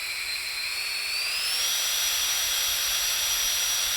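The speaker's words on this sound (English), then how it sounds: "I'm going to stand over here with the leaf blower in the on position and blow the flag." A Tawugame 750W brushless cordless leaf blower gives a high, whining motor hum that runs steadily and then climbs in pitch as it speeds up, constant and fairly close with no talking.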